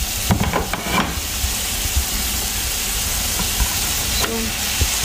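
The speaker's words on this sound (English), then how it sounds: "And I put all the green vegetable, the beans and the okra." Green beans and okra fry in a pan with a constant loud sizzle and hiss, broken by a few clattering stirs near the start and end.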